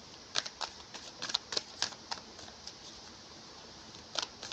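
Tarot cards being shuffled for a love reading: a quick run of faint, crisp riffling taps and flutters, close by and alone with no voices.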